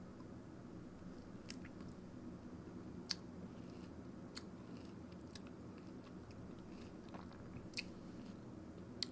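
Quiet, close-up bites and chewing of a peeled lemon, with a few sharp wet crunches and clicks spaced irregularly over a faint, steady background hiss.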